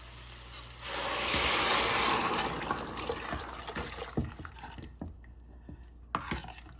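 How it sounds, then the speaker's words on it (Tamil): Tamarind water pours into a hot pan of sautéed ingredients with a loud rushing sizzle, then settles into softer bubbling, dripping and a few clinks of stirring, while cooking fish curry. "இப்போ இந்த கரைச்சி வச்ச புளி தண்ணி ஊற்றிடலாம்."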